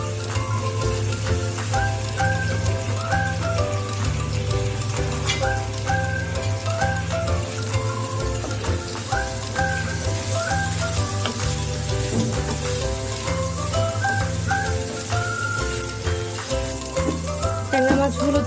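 Tengra fish coated in turmeric, chili and salt fry in oil with a continuous crackling sizzle, while a steady low rhythmic pattern runs beneath it throughout.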